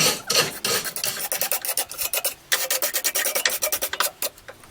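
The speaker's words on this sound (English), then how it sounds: "So just with a wire brush," A wire brush scrubs dirt and rust off the prongs of a garden fork. The loud, rapid, harsh scraping comes in quick back-and-forth strokes close to the listener, and no one speaks.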